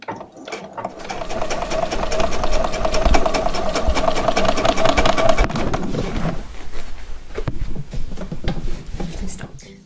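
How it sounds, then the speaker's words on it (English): Sewing machine stitching a seam on a denim skirt made from old jeans, a steady loud rapid whir for about six seconds before slowing and stopping, with some handling noise. "and then just start sewing."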